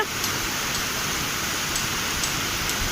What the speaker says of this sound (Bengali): আপনারা সবাই নিশ্চয়ই বৃষ্টির শব্দও শুনতেছেন